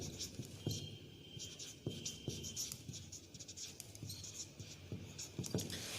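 Chalk or marker scratching across a board during an economics lesson, a steady patter of short strokes with occasional sharper taps, close and moderately quiet, with no talking.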